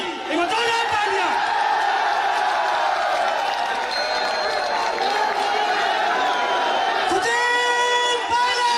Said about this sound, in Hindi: श्रीमान सचिन पायलट जी, एक जोरदार तालियां।